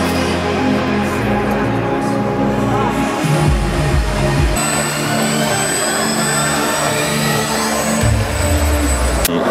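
Children's model airplanes fly at an aeromodelling competition, giving a loud, continuous engine whine that shifts in pitch as they pass, with someone talking over it throughout.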